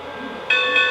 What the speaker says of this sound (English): You'll get 2 bells and a whistle to advise you that you're in sequence mode.